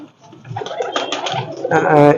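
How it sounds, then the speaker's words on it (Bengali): Pigeons, including Dabla pigeons, coo close by in a busy breeder's loft, soft throaty calls overlapping with rustling and a louder call at the end. "এগুলো ডাবলা কবুতর"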